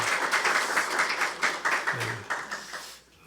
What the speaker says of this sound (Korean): 우리 아까 인사를 못 나누는데 박수로 한번 환영하고 왔으면 좋겠습니다